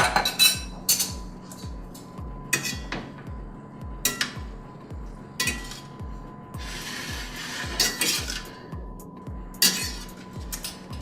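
Vegetables are stirred into browned beef in a pan for a noodle-free lasagna, with a spoon scraping and clinking against the metal in a regular rhythm. The knocks are fairly faint and steady, and a few brighter clatters are scattered through.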